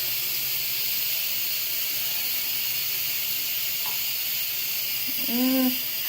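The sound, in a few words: Instant Pot hissing as it releases steam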